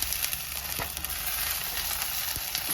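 Onions and tomatoes fry in oil for a mango curry, giving a steady close sizzle with a faint crackle and a couple of light stirring knocks, with no talking.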